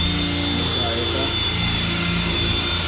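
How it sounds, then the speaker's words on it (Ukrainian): A steady, continuous roar from a running extractor fan at a work site, a loud broadband whoosh with a constant hum and a faint high whine, holding an even level throughout. "Витяжка."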